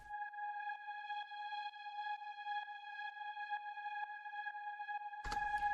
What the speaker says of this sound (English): It's basically a pedal note which sits at the top of the track when something's playing